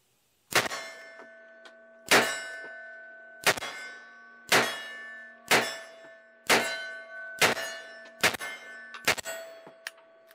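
Eight sharp metallic clangs ring out from bullets striking steel silhouette targets, fired from a 1970s rifle in a fast, steady string about one to one and a half seconds apart, each strike leaving a bright ringing tone that decays before the next.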